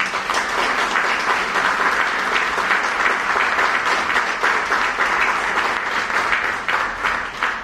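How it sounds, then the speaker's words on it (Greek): Loud, sustained applause from an audience at a calendar presentation event in Thessaloniki's Vardaris neighbourhood, a dense, steady wash of clapping that continues for the whole stretch without any speech over it. "να τους χειροκροτήσουμε πολύ δυνατά"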